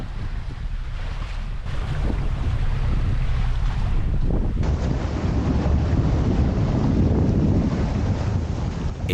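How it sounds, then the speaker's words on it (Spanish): Strong wind on a sailboat at sea off Cabo de Gata in the Mediterranean, a loud continuous roar of gusts buffeting the microphone over rushing water and waves. "El viento sigue apretando"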